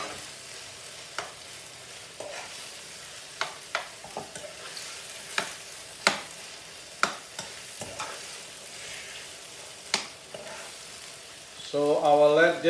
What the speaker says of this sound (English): So I will let this fry down here and cook here like about 5 minutes.